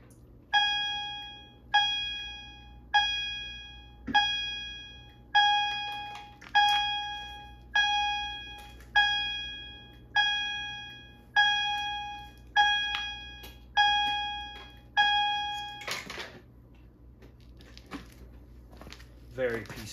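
A CH70 fire alarm chime set to vibrating high volume rings a loud, bright repeating tone, about a dozen evenly spaced strikes each decaying before the next, then it stops and a brief rustle follows.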